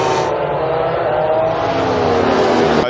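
Pramac Ducati MotoGP racing motorcycles on track at the 2021 Doha Qatar Grand Prix: a loud, close, high-revving engine wail whose pitch slides steadily down as the bike passes, with no talk over it.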